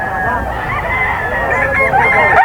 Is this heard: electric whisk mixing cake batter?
no